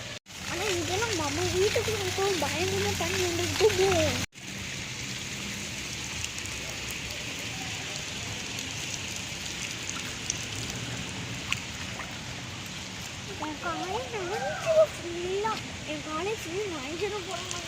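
Steady broadband hiss of heavy rain pouring outdoors during a rain and hail storm in Saudi Arabia, continuous throughout, with someone talking over it and a voice briefly.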